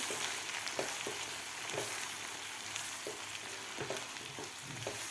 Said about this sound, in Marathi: आपल्याला हा मसाला व्यवस्थित परतून घ्यायचा आहे दोन ते तीन मिनिट